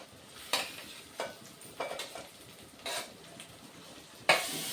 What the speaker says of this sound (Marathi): मी आता टोमॅटो ऍड करते त्याच्यामध्ये. टोमॅटो 2 मिनिटं मी भाजून घेते.